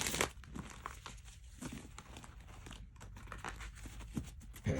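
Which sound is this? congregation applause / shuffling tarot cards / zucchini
shuffling tarot cards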